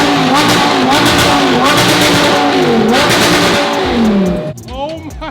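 A Lamborghini Gallardo Squadra Corsa revs loudly and continuously, its engine howling and rising in pitch before cutting off, followed by a brief lighter rev. The engine is close and dominates the sound.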